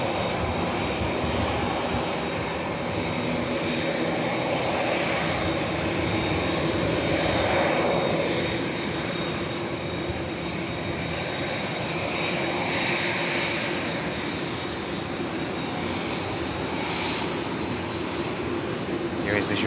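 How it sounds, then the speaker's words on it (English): An Isle of Man liveried ATR turboprop airliner arrives at Manchester Airport, a steady broad engine drone with a faint propeller tone that holds loud throughout. "And just see the Isle of Man liveried ATR there."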